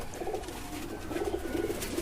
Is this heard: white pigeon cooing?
yes